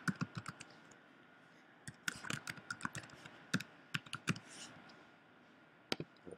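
Someone types an email address on a computer keyboard, a close, irregular patter of key clicks in quick bursts with brief pauses and no talking.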